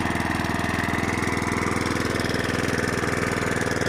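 A Best Green moped engine idles steadily and loudly up close, its fast even putter holding a constant rhythm throughout with no voices.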